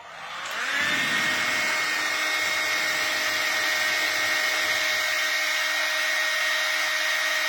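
KUKU DC solar-powered air conditioner switching on and blowing air, a steady whooshing fan hiss with a thin whine rising in over the first second, then holding loud and constant throughout.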